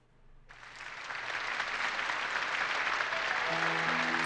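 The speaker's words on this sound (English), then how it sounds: "the sound of applause fills the quiet room" In the video game White Album 2, applause swells from near silence into a dense, sustained clapping crowd as a stage curtain rises, holding steady with a faint low tone running underneath.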